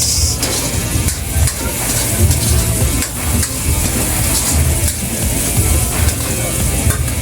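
Garlic, onion and ginger aromatics sautéing in a pan as a dense, loud, continuous sizzle with scraping and stirring noises throughout.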